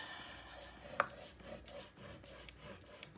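Heavy cardstock is rubbed back and forth in a quiet, close scraping rasp like sawing paper, with one sharper tap partway through.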